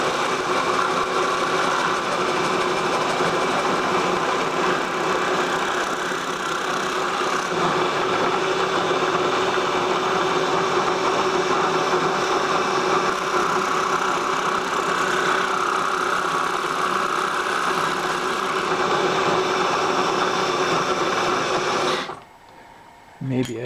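A vintage 1956 Cummins engine runs steadily with a loud, continuous rumble that holds for about twenty-two seconds, then cuts off abruptly near the end.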